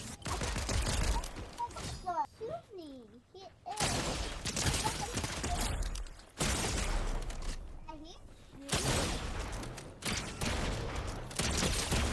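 Video game gunfire rattles in dense bursts of rapid shots, loud and close, broken by short gaps, while several excited players talk over the shooting.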